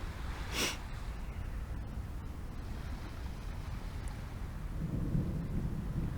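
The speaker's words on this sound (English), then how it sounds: "This is one of the best lightning storms" Deep, rolling thunder from a huge lightning storm in Japan, a sustained low rumble with a sharper crack early on, heard alone without voices.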